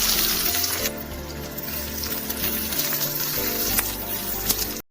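Onion frying in sunflower oil, a loud, dense, close hiss of sizzling that runs steadily with slight swells before cutting off at the end, with no talking.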